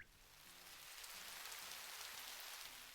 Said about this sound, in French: Ok, il pleut des gouttes.